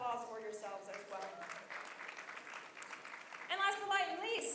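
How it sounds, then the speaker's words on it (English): Applause from guests at the 2025 EXTRAordinary Women Reception, a moderate round of clapping running beneath voices and cheering, with a louder burst of vocal excitement near the end. "So round of applause for yourselves as well."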